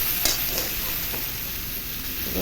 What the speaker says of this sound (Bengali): নাড়াচাড়া ভালো করে মশলাগুলো আমি সবজিগুলো দিয়ে ভেজে নেব